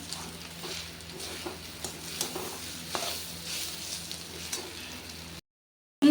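Chopped banana stem stir-fries in a pan with a soft steady sizzle and repeated scraping stirs close by, ending in a short silence and a brief clack.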